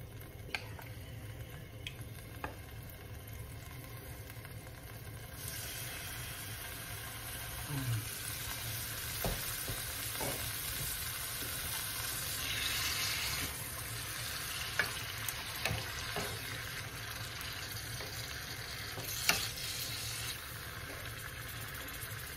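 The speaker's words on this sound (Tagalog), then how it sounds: "Atin pong gagawing brown para po masarap." Meat browning in a pan for Bicol express, a steady low sizzle of frying with occasional stirring clinks, fairly quiet and continuous with no talking.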